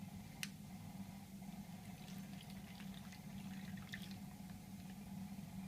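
Water poured into the pack of a Chinese People's Liberation Army PLA 09 ration heater up to the fill line, a steady soft trickle with faint splashes, continuous and close, with no talk.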